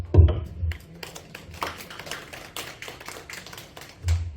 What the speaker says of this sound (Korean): 우리 어머니께 박수.